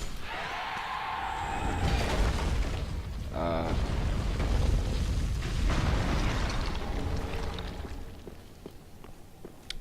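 In Dark Souls III, a skeleton ball smashes apart with a booming, crunching burst amid rumbling game effects and scattered clatter, fairly loud and close.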